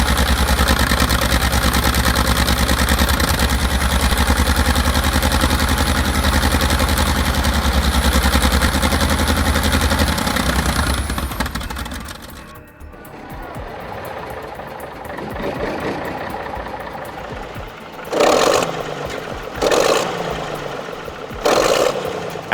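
The 29.3-liter V12 of an M48 Patton tank runs loud and steady for about ten seconds with a heavy low rumble, then drops off, followed by several loud bursts of noise near the end.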